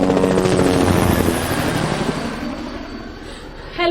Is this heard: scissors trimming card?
no